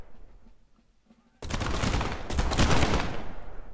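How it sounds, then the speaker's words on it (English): Cannon and musket fire from the Prime & Load 1776 game erupts after a quiet second, a sudden dense wall of booming blasts and crackling volleys that rolls on loudly to the end. "You can see our cannon shot bouncing through here."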